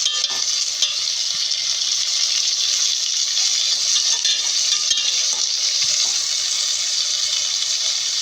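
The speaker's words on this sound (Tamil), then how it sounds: "தக்காளி நல்லா வதக்கட்டும்." Steady, loud sizzling of tomatoes sautéing in a pan, a continuous hiss with occasional faint clinks, no voices.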